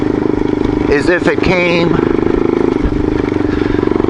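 Motorcycle engine running at a steady, close, pulsing idle throughout, with someone talking over it.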